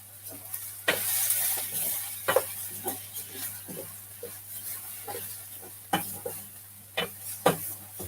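Egg fried rice with soy sauce and sesame oil sizzling in a hot frying pan as it is stirred, with scraping spatula clatters and soft hiss at an irregular pace close by, no talking.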